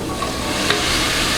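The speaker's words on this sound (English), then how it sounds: "Let it cook for a minute or two to get the vegetables nice and coated with the spices" Vegetables and onions frying with spices in a non-stick skillet give a steady, close sizzle with a faint stir scrape partway through and no voices.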